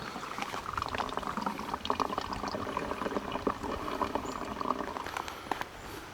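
Water trickles steadily through a collapsible bag filter into a canteen in a lightweight military surplus kit, a soft continuous pouring and dribbling sound, close and moderately quiet, with no talking.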